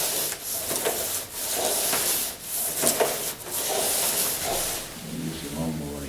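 An old-style push lawnmower with a turning blade, demonstrated indoors, gives repeated rasping, swishing strokes in an uneven rhythm, with a voice briefly entering near the end.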